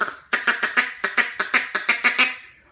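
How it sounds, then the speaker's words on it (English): A rapid run of about eleven short, raspy duck-call notes in a steady chattering rhythm, loud and close, with no talking. "she might give a little feed call because she's eating"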